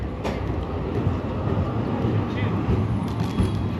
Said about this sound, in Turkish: Nostaljik tramvay.